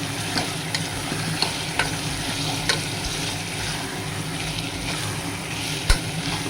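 Marinated mutton sautéing in a pan for gongura mutton, a steady close sizzle of frying with scattered scraping clicks of a spoon stirring, one sharper clack near the end, no voices.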